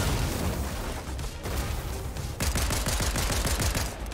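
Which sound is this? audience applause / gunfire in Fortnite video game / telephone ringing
gunfire in Fortnite video game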